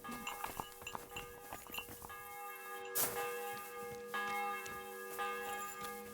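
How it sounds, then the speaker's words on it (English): Church bell ringing in the medieval video game Kingdom Come: Deliverance 2, sustained metallic tones ringing and overlapping, with a louder strike midway and faint ambient clatter beneath, no talking. "That's just a normal bell, right?"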